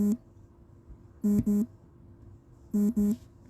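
Two quick pairs of electronic beeps from a phone notification, clear and fairly loud, separated by a short pause over a quiet background.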